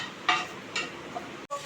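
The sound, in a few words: nigella seeds tempering in a frying pan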